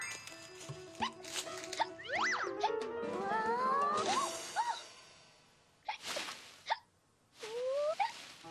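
Teal, a cartoon character, hiccups in a string of short, bouncy cartoon yelps and boings amid swooshing effects, with brief pauses between bursts.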